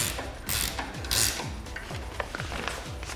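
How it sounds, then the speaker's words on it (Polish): Preload adjuster on a Yamaha MT-07 motorcycle shock being turned with a tool, giving a run of close, fairly quiet ratcheting clicks and metallic scrapes in a steady rhythm, with no talk. "Zmniejszam teraz napięcie wstępne do minimum, żeby zobaczyć, jak zareaguje."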